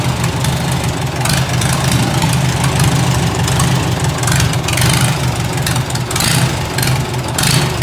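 Farmall Super A tractor engine running on choke, a loud, close, steady rumbling idle with uneven knocking pulses and no voices over it.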